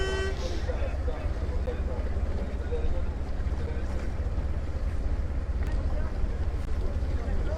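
A boat engine drones steadily on a Vendée Globe finish-line passage, a constant low rumble heard throughout with wind noise buffeting the microphone and a brief toot near the start.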